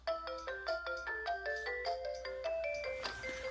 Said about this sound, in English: Why do they make kids' toys so annoying? That sound, it's the same.